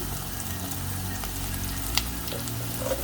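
Green chillies sizzling in hot oil for a lentil curry, a constant close crackling fry with a couple of small pops, no talking.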